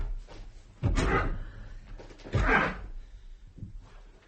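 Two heavy thuds come from bodies shouldering against a stuck front door. Each is a loud, close impact with a brief rattle after it, about a second and a half apart, with no speech.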